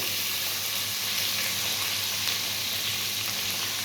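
Fish frying in hot oil with turmeric as onions go in, giving a loud, steady, close sizzle that stays dense and even throughout.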